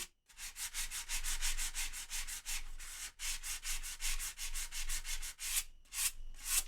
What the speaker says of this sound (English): do some light sanding while we chat.